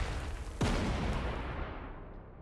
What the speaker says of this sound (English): Let the bombardment begin. That's sort of like a World War I artillery barrage.